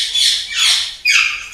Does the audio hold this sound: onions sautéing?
no